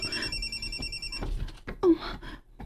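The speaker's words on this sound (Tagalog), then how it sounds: "May nanawag." A telephone bell rings with an incoming call, a repeated trilling ring heard over background music and scattered room noise, moderately loud.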